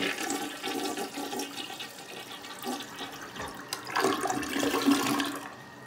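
A toilet that is not filling properly flushes with a loud rushing gurgle, then water keeps hissing and trickling as the tank refills.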